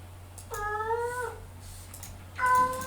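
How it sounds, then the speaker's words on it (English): A cat lets out two clear, drawn-out meows close by indoors, the second starting louder, with a low steady hum underneath and no talking. "That's my cat."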